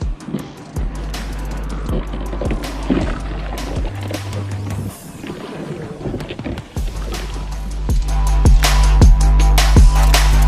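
A 106 MK fishing kayak with a motor and foot steering moves along the Hammond River, a low steady motor hum under intermittent paddle-like splashes, water wash and sharp knocks against the hull, with wind buffeting the microphone.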